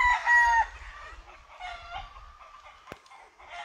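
A rooster crows loudly and close by while being groomed in Puerto Rico, its long call followed by softer clucks and scattered rustling.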